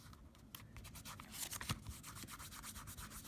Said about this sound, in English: we're going to slather it with glue from our glue stick